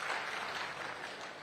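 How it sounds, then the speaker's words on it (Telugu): Audience members clap at a TDP leaders' and party workers' meeting in Parvathipuram constituency: a short burst of dense, fairly faint applause with no voices. "చప్పట్లు ఇప్పుడే కొట్టదు,"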